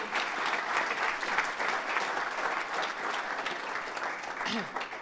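Steady, dense audience applause after a pasta sauce pitch at a Trout Tank pitch event, continuous and fairly loud throughout, with a brief voice near the end.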